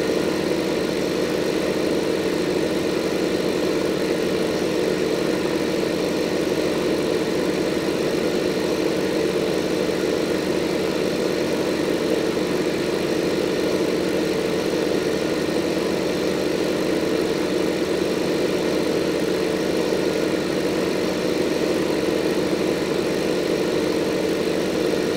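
A tractor engine hums steadily while mowing hay at about 8 speed in Farming Simulator 15, a constant mid-low drone that holds an even level throughout, with no speech.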